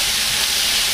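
Vegetables sautéing in oil in a pan give a loud, steady, close sizzle with a bright hiss throughout, without speech.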